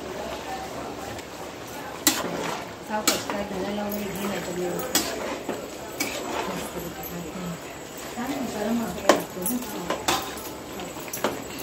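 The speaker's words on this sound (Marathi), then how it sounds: "तर आता आपण वाटण टाकणार आहोत आपल्या चिकन मध्ये." Onion-coconut paste being added and stirred into chicken in a pan, with occasional sharp metal clinks and scrapes over steady background hiss while people talk throughout.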